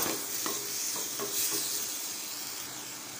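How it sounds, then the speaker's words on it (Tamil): Tomato, capsicum and green chili are stirred in a sizzling pan for a tiffin side dish, with steady scraping strokes over a soft frying hiss and no talking. "எல்லாத்தையும் சேர்த்து கலந்து விட்டுப்போம்."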